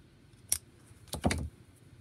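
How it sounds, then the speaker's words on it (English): Scissors snip through crochet yarn up close and quietly: one quick click, then a short double snip a moment later, in an otherwise still room. "and cut your yarn"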